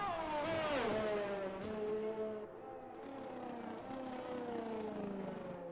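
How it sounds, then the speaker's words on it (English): A Honda-powered Formula 1 car in the F1 2020 racing game, raced in wet qualifying at the China circuit, gives a loud, continuous high-pitched engine whine that drops and climbs with gear changes. It plays alone, with no talk. "that Honda engine really, it sounds bad, but it sounds like it's just going to blow up"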